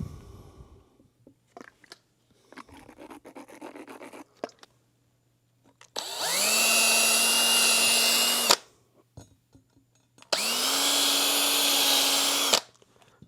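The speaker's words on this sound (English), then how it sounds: "I'm going to use a ball hone and just give these things a very, very light hone" Ball hone spinning inside the valve guides of a Honda CRF250R cylinder head, giving two loud, steady drill-driven whirring bursts of about two and a half seconds each, preceded by quieter scraping and handling sounds.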